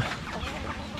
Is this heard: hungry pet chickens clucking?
yes